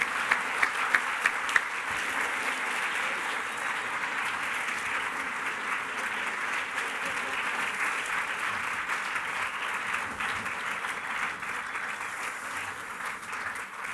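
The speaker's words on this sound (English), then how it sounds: "could we give a round of applause to all six of our authors?" Sustained applause from a seated audience at a science book prize award ceremony, honouring six shortlisted authors; steady, dense clapping at an even level throughout with no speech.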